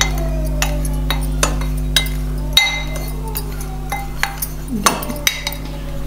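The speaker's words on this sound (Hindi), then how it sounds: "लाल मिर्च ऐड करेंगे, अब और नमक ऐड करेंगे। अब इसको अच्छे से मिक्स कर लेंगे।" A spoon clinks and scrapes against a bowl or pot while red chilli and salt are mixed for amla pickle, sharp metallic taps at irregular intervals over a steady low hum, with no voices.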